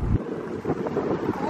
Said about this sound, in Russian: Ветер сегодня очень сильный.